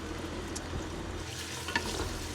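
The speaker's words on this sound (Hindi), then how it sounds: "सबसे पहले ऑयल गरम करके उसमें प्याज डाल के भून लें।" Onions frying in hot oil for a home-style aloo gobi curry give off a steady, close sizzle with faint stirring scrapes and one small clink near the end.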